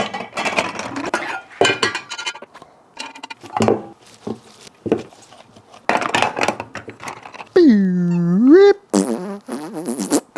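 A cheesy jalapeño popper sausage mixture being pushed into 32 mm natural hog casings gives off wet, squelchy bursts separated by pauses. Near the end, a long pitched squeal of air escapes, followed by a last sputtering squish.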